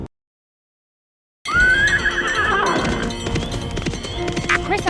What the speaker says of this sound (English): Take a horse from the courtyard and ride out of town.